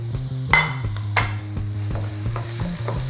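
Onions frying in a pan to caramelize for noodles with black bean sauce, a steady close sizzle with a couple of louder stirring scrapes near the start and no talking.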